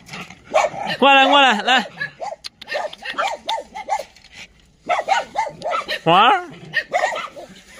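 Stray dogs, a Teddy (toy poodle) and a yellow dog, give short close yips and barks with drawn-out whimpering whines between them, while a person talks and calls to them.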